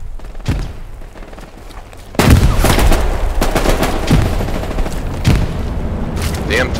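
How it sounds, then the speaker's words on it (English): Grenades blasting in the World War II shooter Hell Let Loose, a series of loud booming detonations mixed with rattling gunfire, a heavy burst starting partway through and further blasts following amid the din. "I'm letting the grenades go first"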